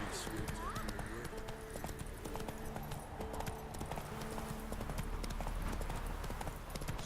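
Roach, Geralt's horse in The Witcher 3 video game, trots with a steady, continuous clip-clop of hooves, with voices talking over it and a busy ambient backdrop.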